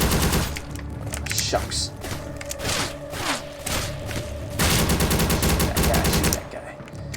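Bursts of rapid gunfire from the video game Ancient Warfare 3, loud and sustained volleys with a brief pause between, while a voice briefly speaks over the shooting.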